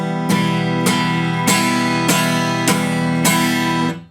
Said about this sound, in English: bad attack or very hard attack would sound like this